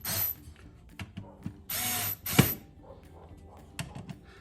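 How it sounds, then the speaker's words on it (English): A hand ratchet clicks in several short bursts while tightening screws on a Rugged Ridge Elite tail light guard mounted on a Jeep 392, close and distinct, with small metallic taps between the strokes. "I tighten these screws up."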